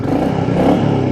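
Stock exhaust of a Royal Enfield Meteor 350 motorcycle, a steady close-up rumble with a slight swell partway through, alone without voices.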